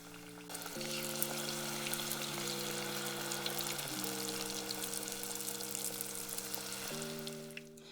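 Turon, banana spring rolls, frying in hot oil and crisping golden, a continuous soft sizzle and bubbling running throughout under a faint steady tonal hum, no one speaking.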